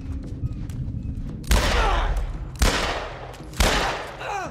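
Gunfire in The Last of Us Part 1 on PC: three loud, sharp shots land about a second apart, each trailing into a rough, echoing decay over a low rumble of background noise.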